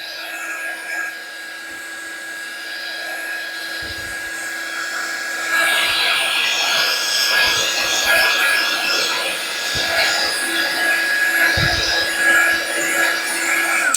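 Small electric heat blower drying makeup powder over a foundation base, a steady high-pitched whirring drone that grows louder midway and holds, close to the mic, with faint talk underneath.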